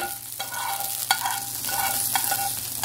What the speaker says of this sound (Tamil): ஒரு டீஸ்பூன் அளவுக்கு ஜீரகம் ஒரு கால் டீஸ்பூன் அளவு கடுகு சேர்த்துருக்கேன் கருவேப்பிலை கொஞ்சம் சேர்த்துக்கிறேன்